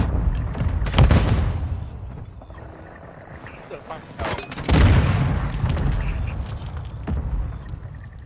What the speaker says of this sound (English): Requesting mortar strike. Copy that. Mortar strike inbound now.